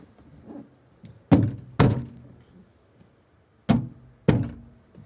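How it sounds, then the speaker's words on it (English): A VT Commodore door trim panel is pulled off: four loud, close hollow thunks in two pairs, each dying away quickly over a faint low background, with no talk. "Door trim off."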